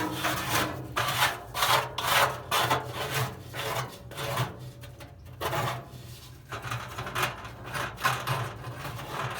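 The included scraper works over a Weber SmokeFire pellet grill's stainless-looking surface in close, repeated rasping strokes of uneven rhythm and length, with short pauses between passes.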